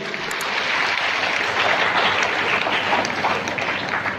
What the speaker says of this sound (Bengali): একটু সকলে মিলে জোরে হাততালি